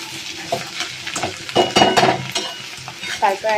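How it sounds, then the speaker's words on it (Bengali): Bottle gourd and prawn curry, sweetened with a little sugar, is stirred in a frying pan, giving a close, steady sizzle broken by soft scraping strokes and light utensil clinks. "এতটা চিনি দেবো, দিয়ে আমি এবারে নাড়িয়ে নেব।"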